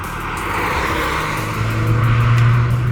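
A 2024 Mercedes-AMG GLC 43 Coupe in Sport Plus mode roars loudly from inside the cabin under acceleration, a steady rising engine drone with raspy exhaust texture and road noise, no talking.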